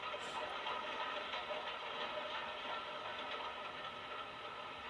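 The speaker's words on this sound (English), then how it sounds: "King Arthur 778 at Pellias pulls a Dunkirk evacuation train through Beckenham Junction" King Arthur class steam locomotive 778 pulling a Dunkirk evacuation train through Beckenham Junction on the Southern Railway, a steady, dense rumble of running wagons and engine noise with no pause throughout.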